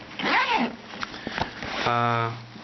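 A zipper on an Eastpak daypack pocket gives a few short, close rasping pulls, with a person talking before and after.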